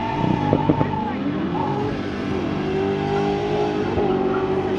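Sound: race car engine revving

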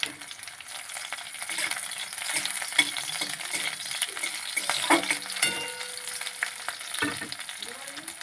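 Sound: frying slit green chillies in a pan

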